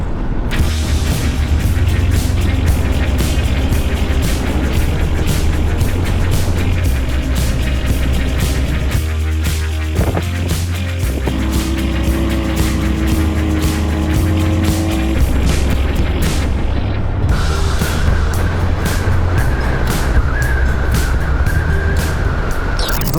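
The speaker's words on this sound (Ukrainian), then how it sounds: "Я знов в дорозі їду до Остапа." A motorcycle cruises along an Italian road in Umbria, its engine droning steadily with strong wind and road noise throughout, the pitch briefly dropping and changing around the middle before climbing again.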